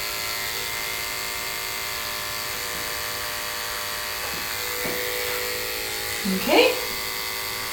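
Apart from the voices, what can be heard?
electric clipper trimming a Westie's face hair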